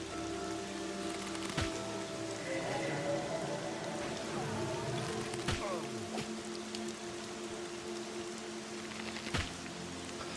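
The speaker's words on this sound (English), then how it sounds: "It's raining." Steady rain falls in the fantasy game Monsters and Memories, a continuous soft hiss with a few sharp clicks and faint game sounds, with no voices over it.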